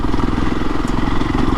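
A Fantic Caballero Rally 500 motorcycle riding a green lane, its single-cylinder engine thumping loud and close in a rapid even pulse at steady throttle, no voices over it.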